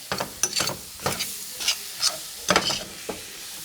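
Spinach fries in a pan while being stirred, giving a run of rhythmic scraping strokes over a light, close sizzle.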